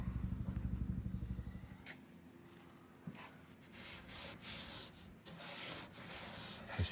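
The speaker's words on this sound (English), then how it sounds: "You get a little WD and you wipe down these old pumps" Rag wiping and rubbing over the old painted metal of a vintage gas pump with WD-40, steady rhythmic strokes at first, then a softer continuous scrubbing close by, with no talking.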